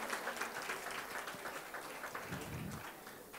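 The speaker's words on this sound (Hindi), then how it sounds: "तोगड़िया जी का स्वागत किया जाए जोरदार तालियों से।" Sustained applause from a crowd, dense and steady clapping that holds at an even level throughout.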